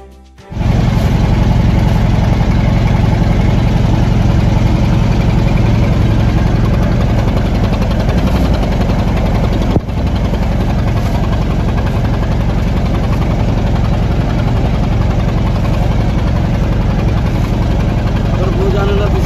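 A trawler engine drones steadily and loudly on a boat heading toward Karamjal ghat in the Sundarbans during heavy rain, a constant low rumble with vibration that continues unbroken for the whole stretch.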